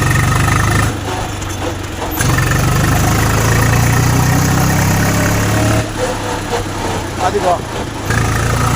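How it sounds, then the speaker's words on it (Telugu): A tractor running in top gear gives a steady low engine and drivetrain drone with rattling vibration from the differential housing beneath the seat, fairly loud throughout, with a brief spoken word over it. "టాప్ గేర్ వేసాం, టాప్ గేర్ ఇప్పుడు వస్తుంది చూడండి సౌండ్."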